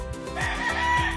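A rooster crows at a calamansi farm in a Philippine barangay, a loud, close, drawn-out cock-a-doodle-doo with ringing harmonics that fills the short moment alone, with no talk over it.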